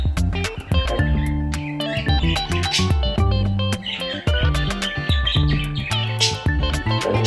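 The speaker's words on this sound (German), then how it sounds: "Die Vögel draußen." Birds chirping and tweeting outdoors near a balcony, repeated bright calls sounding fairly close against a dense, continuous wash of other sound that stays loud throughout.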